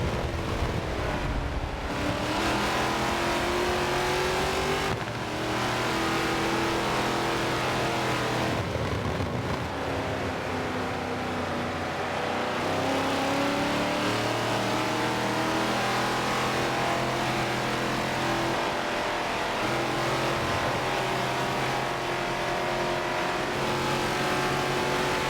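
Race cars at Road America in a Wisconsin race, engines droning and revving continuously with rising and falling pitch as cars accelerate and pass, loud and sustained for the whole stretch.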